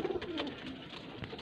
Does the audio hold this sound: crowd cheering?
no